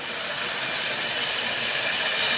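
Toy train running on a track around a Christmas tree, heard as a steady, continuous hissing rush with a mechanical whir that holds at an even level for the whole stretch, with no talking.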